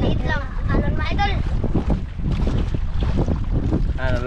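Sea waves wash and slosh around a small fishing boat out on open water, a steady rough rush mixed with heavy wind buffeting the microphone, while people talk loudly over it throughout.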